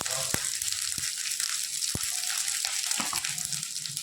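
Onion frying with ginger-green chili paste and turmeric in a pan, steady bright sizzle broken by a few sharp clicks of a spoon stirring, with no voice.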